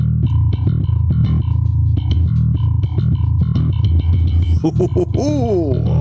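A distorted, effects-laden bass guitar plays a steady, driving line on its own, ending with a few sliding, warbling notes.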